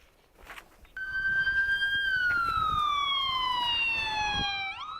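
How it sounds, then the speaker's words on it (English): A police siren wails nearby, its tone sweeping steadily downward over several seconds, loud and continuous after a quiet start. "Sirens blaring in broad daylight for the second afternoon in a row."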